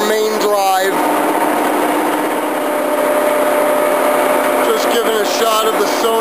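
The 20-horsepower main drive of a Giddings & Lewis 340-T table-type horizontal boring mill runs loud and close with a steady whirring drone, while brief voice-like tones rise over it at the start and near the end.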